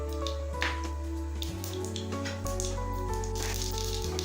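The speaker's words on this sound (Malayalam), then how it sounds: "എണ്ണ നന്നായിട്ട് ചൂടായിട്ടുണ്ട്. ഇനി ഇതിലേക്ക് ഇത്തിരി കടുക് ചേർക്കുന്നുണ്ട്." Mustard seeds dropped into hot coconut oil for pavakka kichadi, giving faint, scattered crackles and small pops over a low steady kitchen hum.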